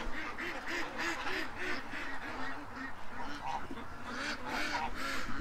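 Ducks quack repeatedly while being fed, a busy overlapping chorus of nasal calls close by, continuous throughout with no speech.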